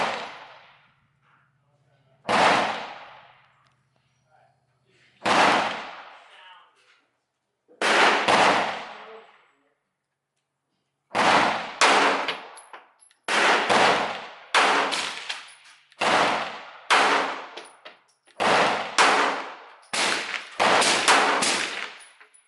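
Nine gunshots ring out one after another from a firearm with an extended magazine, first spaced a few seconds apart, then in a quicker run, each a sharp, loud crack with a short echo.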